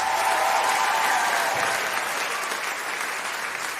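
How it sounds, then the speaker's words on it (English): A live audience claps loudly and continuously, a dense, steady round of applause that tapers only slightly over a few seconds. "One more round of applause for Chelsea Regina."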